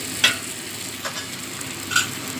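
Steady sizzling and frying from fried spice paste in a pan for a koi fish curry with bean seeds as hot water is added, with a few soft stirring clinks, close and continuous.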